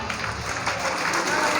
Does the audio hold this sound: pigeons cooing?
no